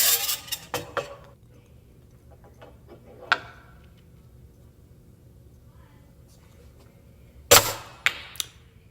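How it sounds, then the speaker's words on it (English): A simultaneous ball launcher and dropper fires with sharp mechanical clicks and snaps, a cluster at the start, one in the middle and a loud burst near the end, close and sparse. "So this guy has just set up the simultaneous launcher and dropper."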